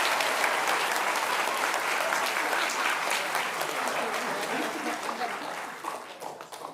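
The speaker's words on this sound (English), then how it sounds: "Applause, maybe?" An audience at a high school awards ceremony claps steadily and fairly close, a dense crackle of hands that thins and tapers off toward the end.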